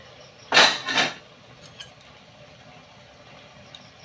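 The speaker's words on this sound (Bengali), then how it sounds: "এইবার ঢাকনা আলগা করে দেখা যাক।" A metal lid lifted off a pot of boiled potatoes for a prawn and banana-flower curry, giving two close, bright clinks in quick succession, followed by faint small clicks in a quiet kitchen.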